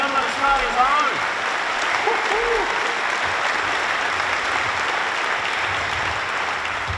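Sustained audience applause at the IAC 2017 opening ceremony, greeting astronaut Andy Thomas with steady, dense clapping. A few voices and brief whoops rise over it near the start.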